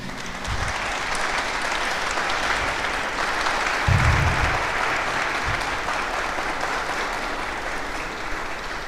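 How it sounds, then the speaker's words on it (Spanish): A lecture audience gives a steady round of applause to welcome a speaker at a conference on the arrival of the Franciscans in Mexico, with dense, even clapping throughout and a few louder bursts near the middle. "Lo recibimos con un aplauso."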